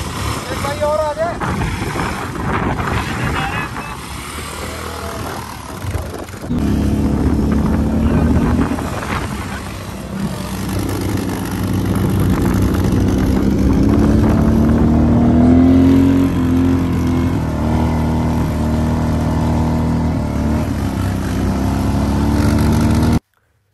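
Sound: bike riding and drifting on desert sand

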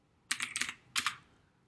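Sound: typing on a computer keyboard

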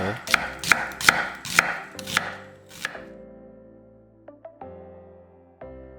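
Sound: chopping onion into strips with a knife

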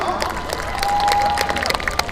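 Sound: audience applause welcoming contestant

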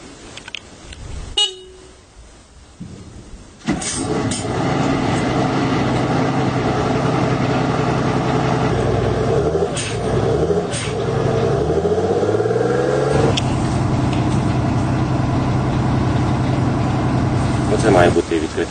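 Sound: engine of Turkish air defense vehicle with automatic gearbox

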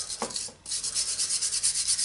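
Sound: sanding with sandpaper during hand drill restoration

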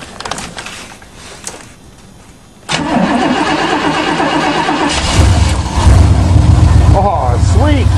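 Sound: Chevy car engine cold starting and running

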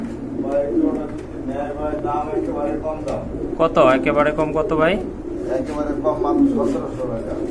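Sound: pigeons cooing

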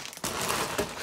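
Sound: plastic bag crinkling during toy horse unboxing

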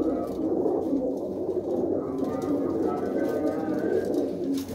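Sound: pigeons cooing in a loft

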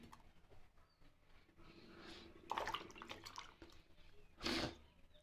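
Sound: washing chopped vegetables in a bowl of water

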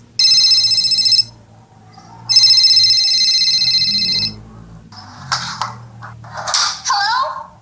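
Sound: telephone ringing in a radio play

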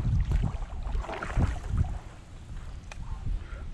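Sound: wind while fishing from a kayak

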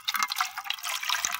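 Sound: water poured to wash tangedu flowers

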